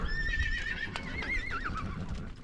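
On a spring ranch horse drive at Sprucedale Ranch, a horse whinnies loudly in a long wavering call over a steady rumble of hooves and outdoor noise.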